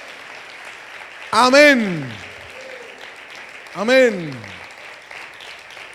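A church congregation applauds in a steady wash of clapping while two loud, drawn-out voiced exclamations ring out above it.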